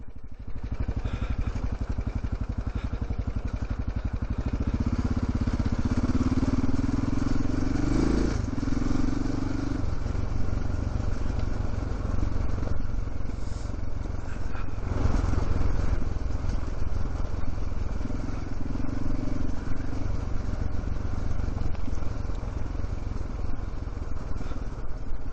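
Motorcycle engine braking down a steep descent on an Idaho tour, a steady low engine rumble with wind noise and occasional clatter, rising in pitch briefly as gears change, continuous throughout.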